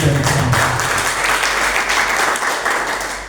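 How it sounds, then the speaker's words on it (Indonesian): A church congregation claps and applauds during a sermon, a dense, continuous wash of hand claps that stays loud throughout, with a low hum underneath. "Tepuk tangan bagi Tuhan."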